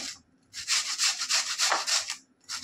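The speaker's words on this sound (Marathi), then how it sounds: "आता मी बटाट्यांना किसून घेते आहे. अशा प्रकारे किसून घ्यायची." Potatoes, peeled first, are rubbed by hand across a grater in steady, rhythmic scraping strokes, close and fairly loud, with a short pause between bursts and no talking.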